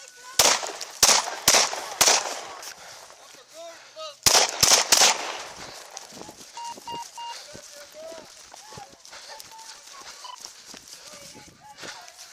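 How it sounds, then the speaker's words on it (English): A police officer fires a rapid burst of gunshots during a struggle with a detained man, several sharp loud cracks followed by a second burst, then scuffling, shouting voices and a radio chirp. "Shots fired."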